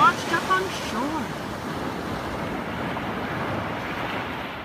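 Ocean waves wash onto a beach in a steady, broadband surf roar with some wind noise, continuous and moderately loud for the whole stretch, with no talk over it.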